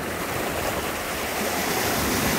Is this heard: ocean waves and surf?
yes